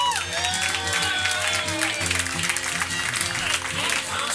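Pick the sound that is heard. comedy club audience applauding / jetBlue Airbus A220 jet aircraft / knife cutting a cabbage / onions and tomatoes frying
comedy club audience applauding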